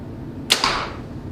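A single sharp snap of a 2011 Mathews Z7 Magnum compound bow releasing an arrow, a quick bright crack followed by a short whooshing decay.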